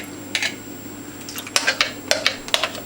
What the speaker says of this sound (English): take your 3 eggs, just whisk them up a little bit first